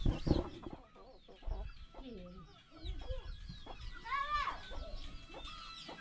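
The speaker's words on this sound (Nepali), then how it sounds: "कुखुरा त जेठाको मात्र छ थुप्रो" Village chickens in a rural Nepali yard, repeated clucking and squawks at close range, irregular bursts with a louder cackle near the end, mixed with people talking nearby.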